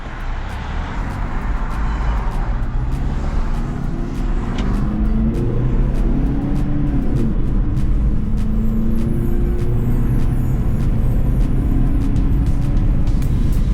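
A Chrysler PT Cruiser accelerating on the road: a loud, continuous engine drone that climbs in pitch as it gains speed, with road and wind noise throughout and no speech.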